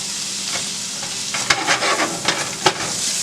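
Corn being stirred into a sizzling pepper and onion mixture in a pan, a constant frying hiss punctuated by several close spoon scrapes and clatters, no talk.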